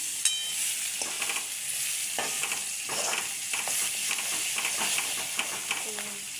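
Onion and cabbage curry is stirred in a hot pan with a steady, loud sizzle, while a spoon scrapes and knocks in a loose rhythm throughout.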